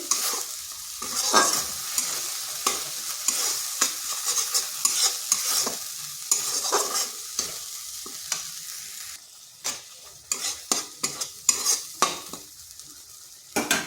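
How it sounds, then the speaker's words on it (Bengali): Ground spices, cumin and chilli powder among them, fry in a pan while a spoon stirs and scrapes in a repeated, irregular rhythm over a steady close sizzle. "এরপর সমস্ত মশলা একসঙ্গে মিশিয়ে ভালোভাবে কষে নিচ্ছি"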